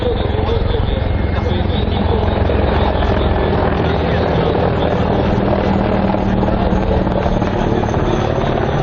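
A helicopter flies at the MAKS 2017 air show, its loud, steady rotor and engine roar filling the air without a break.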